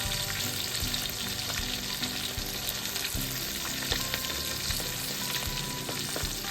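Dried shrimp and salted fish stir-fry in plenty of hot oil, a loud, dense, continuous sizzle close by, with occasional scrapes of stirring throughout.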